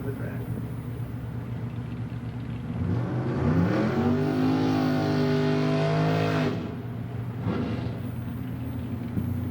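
A drag racing car at a night drag strip revs up with a rising engine whine and rumble, holds a loud roar for a few seconds, then fades, while a voice talks over a loudspeaker.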